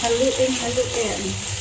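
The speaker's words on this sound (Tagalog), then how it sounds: "Pwede na natin haluin." Adobo sizzles steadily in a frying pan while a utensil scrapes and stirs in a loose rhythm, close by.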